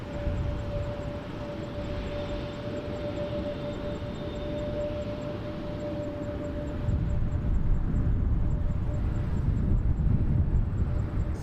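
An Air Transat airliner, flight 252 bound for Malaga, rumbles at Montréal-Trudeau airport with a steady engine roar and a sustained whine, growing louder partway through.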